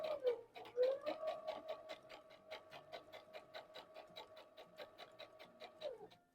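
A sewing machine stitches a heart rose quilt block, its needle hammering in a steady rapid rhythm that stays close and clear for about five seconds, starting and stopping crisply with no talk over it.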